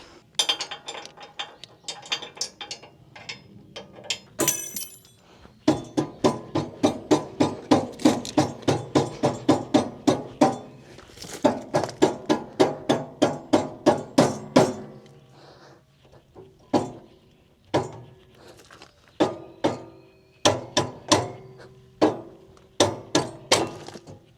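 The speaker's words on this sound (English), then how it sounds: "time to get the mallet. If it's not one thing, it's another. Mallet and grease. When in doubt, grease it up, smack it around." Rapid bursts of metal-on-metal clinks from a mallet hammering a tractor PTO linkage back into place, struck in quick repeated runs with short pauses, loud and close.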